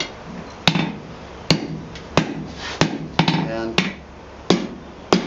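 Hot steel is hammered on an anvil while forging blacksmith tongs: a run of eight ringing, evenly spaced strikes about a second apart, close and loud, with a brief spoken word between blows.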